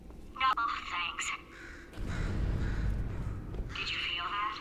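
A bird caws repeatedly in the Portal 2 game, harsh crow-like calls in short bursts near the start and end, with a voice talking through the middle.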